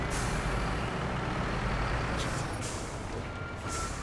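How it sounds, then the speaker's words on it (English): A truck's air brake in SnowRunner hisses in a long, steady release as a trailer is dropped, loud and close over a rumbling idling engine. "I'm going to quickly ditch this trailer"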